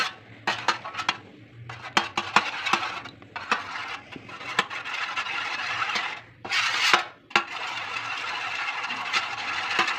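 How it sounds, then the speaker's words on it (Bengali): A brass spoon stirs a mixture in a cup or bowl, producing repeated sharp clinks and scrapes against the container, close up, with a steady hissing background between the strokes. "সোনার চামচ এটা আসলে পিতলের এটাকে ভালো করে গুলে"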